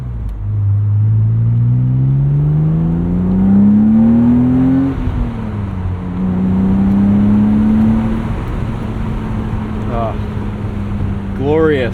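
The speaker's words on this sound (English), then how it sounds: "Glorious exhaust note here." A 1999 BMW M Roadster fitted with a Dinan exhaust gives a loud, steady engine note that rises in pitch as it revs, dips, then climbs and holds again, with a short burst of higher revving near the end.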